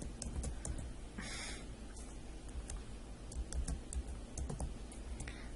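Keys clatter on a computer keyboard while typing into an Excel spreadsheet, a steady stream of quiet, close clicks and taps with no talk over them.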